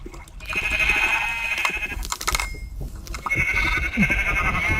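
Sheep bleating in a video game, several wavering bleats overlapping close by in a short loud burst with a few clicks and thuds between them.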